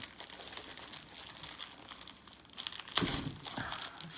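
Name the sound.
packaging of Zweigart Aida canvas being opened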